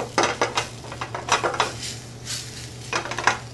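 A spoon stirs two tablespoons of sour cream into a dish, scraping and clinking against the bowl in quick bursts, close and clear with no talking.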